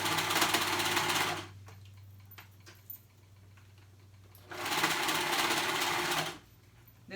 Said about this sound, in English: So when I'm sewing this, I wanna make sure I take my time